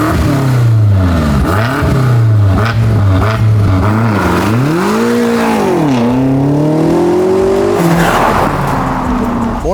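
A BMW M8 Competition with a twin-turbo V8 and all-wheel drive revs hard and loud, its engine note sweeping up and down in repeated surges and falling back between blips, close up and continuous throughout.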